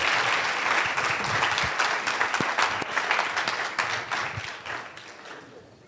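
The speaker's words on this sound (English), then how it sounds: "Give them a big round of applause" An audience at an event breaks into loud, dense applause that holds steady and then thins out toward the end, with a few sharper individual claps standing out.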